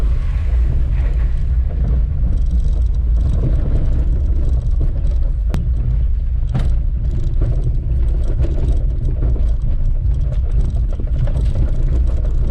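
A lifted Honda CR-V RD1 grinds along rough off-road trail in the Ormeau Hills, its engine a steady low rumble under buffeting wind and a couple of sharp knocks from the suspension.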